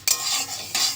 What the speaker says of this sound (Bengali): যেটা দেখালাম সেই মুগের ডালটাই আমি এখন ভাজতে শুরু করেছি।